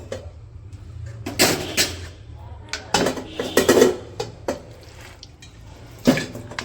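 A cooking pot of meat is handled and set on a village stove, giving several metallic clanks and knocks of different strength with brief pauses between, close by, with no talking.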